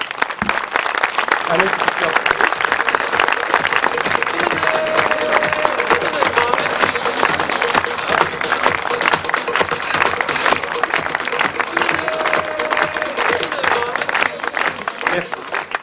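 Loud, dense audience applause at an outdoor arts event in the park of a manor in Mamers, a continuous roar of many hands clapping that lasts about fifteen seconds, with a brief voice calling out amid it.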